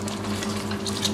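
Water is poured into a pot of simmering porcini mushrooms for soup, a short continuous liquid splash and gurgle over a steady low hum, close and moderately loud, with no talking.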